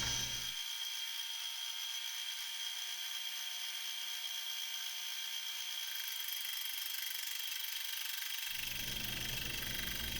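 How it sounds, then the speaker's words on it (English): A milling machine fly cuts a steel tractor wheel spacer made from scrap stainless stock, producing a steady, bright metallic whine with constant high-pitched hiss that continues evenly throughout, close and fairly loud, with no speech. "a little fly cutting to clean up the majority of the surface."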